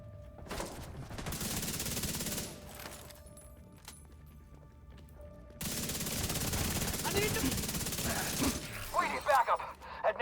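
Sustained automatic gunfire in The Division, two long loud bursts separated by a quieter gap with mechanical clatter, ending in scattered shots and voices.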